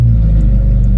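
Loud, close rumble of a Ferrari 458 Spider V8 with straight-pipe race exhaust headers, a deep steady idle with pulsing low tones filling the whole moment.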